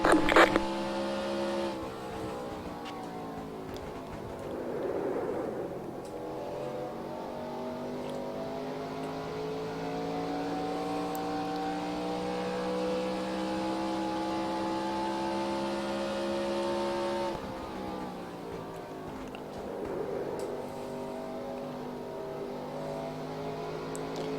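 A race car engine in NASCAR Racing 2003 with a 1984 season mod, droning steadily through a lap, its pitch climbing and dropping as it shifts gears through the turns, loud and continuous with no talk.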